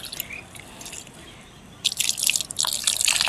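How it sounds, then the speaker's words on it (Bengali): Water is poured at the base of a mussaenda plant in a pot. Faint trickling and dripping at first become louder, splashy pouring in the second half, with no talk. "এই গাছের গোড়াতে এই জলটাই দিয়ে দেবো"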